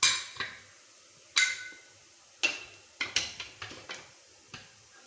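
Metal pot lid clinks and clatters as it is lifted off a pot of drumstick sambar, with a few sharp ringing knocks spaced out and then a quick cluster of lighter taps in a quiet kitchen.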